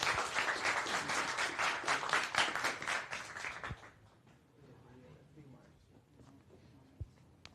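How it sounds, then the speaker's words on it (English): An audience at a 2025 student tech demo event claps for about four seconds, a dense burst of close applause that then drops to quiet room murmur with a couple of faint knocks. "round of applause for them"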